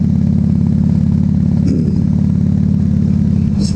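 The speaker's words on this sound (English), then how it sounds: "So I gotta go through all my gears and everything, make sure it's gonna shift smoothly." A motorcycle engine runs loud and close with a steady low throbbing drone, its pitch dipping briefly partway through as it is ridden through the gears after a transmission fluid change, with no talking.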